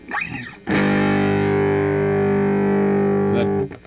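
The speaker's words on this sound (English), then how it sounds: "you can dial up the distortion" A heavily distorted electric guitar chord through a modded First Act DS-1 clone distortion pedal rings out loud and sustained after a brief pick scrape, buzzing with thick saturation before cutting off.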